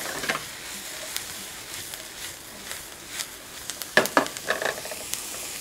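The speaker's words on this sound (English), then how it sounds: "Add in the broccoli rabe. And it's a quick saute." Broccoli rabe sautéing with garlic and chili flake in a pan, giving a steady soft sizzle with scattered crackles and a few louder pops and stirring scrapes near the end, close by and without talk.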